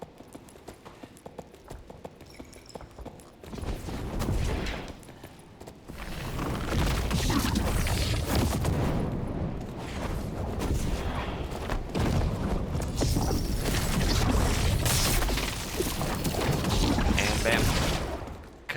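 Spell effects from the Dark and Darker video game, including levitate, freeze and elemental bolt, crackle and boom in repeated loud bursts over a busy background, with brief quieter stretches between casts.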